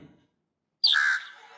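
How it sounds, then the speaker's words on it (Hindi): A crow caw played for children to identify: one loud, harsh call that bursts in after a moment of silence and then trails off. "किसकी आवाज है कौवे की आवाज है"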